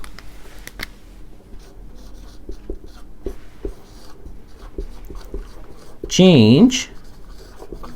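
A marker or chalk writing on a board during a physics lecture, quick scratching strokes under a voice speaking steadily, ending in a louder spoken burst.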